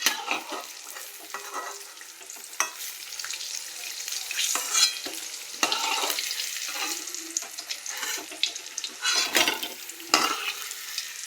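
Pointed gourd and eggplant frying in a pan, a steady close sizzle with repeated scraping and stirring clatter throughout, no talking.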